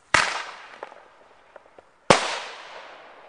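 Two sharp firecracker bangs set off outdoors on Canada Day, about two seconds apart, each trailing a reverberant decay, with a few faint pops between.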